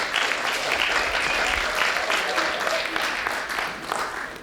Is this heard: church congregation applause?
yes